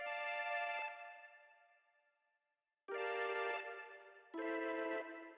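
Rhodes electric piano chords ring out in the background as a sample-based guitar melody backing in FL Studio, three sustained sounded phrases with a fading tail and a gap between the first and second, no voices.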